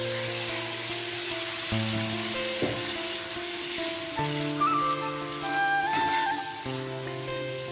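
Water poured into a pan of sizzling mustard spice paste for shorsho hilsa, a steady loud frying hiss with crackles and rain-like spatter throughout, no voices.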